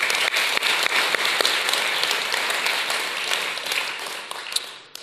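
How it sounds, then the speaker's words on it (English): A dinner audience claps loudly and continuously for about five seconds, a dense wash of hands that tapers slightly at the end, with no talking over it. "Can I have one more round of applause for that video,"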